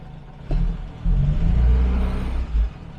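A Morris 1300 car engine idles low, then takes a couple of short throttle blips as the handbrake is released for pulling away; the sound is close and rumbling, with no talking.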